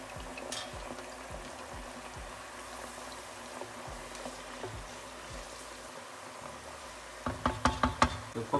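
Potatoes for spicy Lebanese batata harra sizzle in hot oil, a steady low crackle throughout with a few sharper bursts of frying and clinks near the end, close and moderately quiet.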